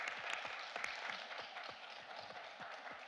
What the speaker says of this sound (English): let's give our speaker one more round of applause for a really fascinating talk.